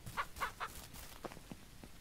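Chickens on a ranch in Ranch Simulator cluck softly at a distance, a few quick clucks at the start followed by scattered quieter clucks and faint shuffling.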